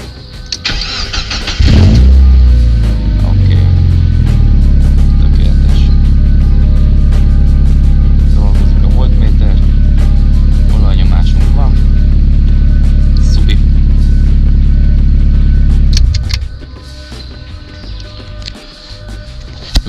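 A car engine cranks and starts, then runs at a steady loud idle for about fourteen seconds, close to the microphone, before shutting off to quieter background.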